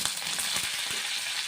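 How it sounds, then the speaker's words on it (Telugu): Mustard seeds, dried chillies and curry leaves sputtering in hot oil for a chutney tempering, a loud, close, crackling sizzle with quick pops. "తాలింపు వేగిపోయింది."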